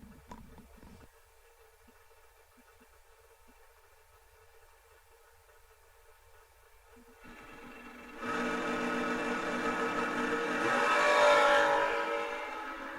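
At a drag race, a Chevelle and a third-gen Camaro idle faintly in the distance, then their engines swell into a loud, building roar as they launch and accelerate away, with no one talking.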